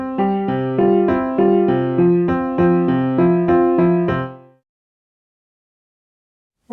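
Two measures of a simple melody over a bass line programmed in SunVox, played as a steady run of bright synth notes for about four seconds, then stopping abruptly into silence.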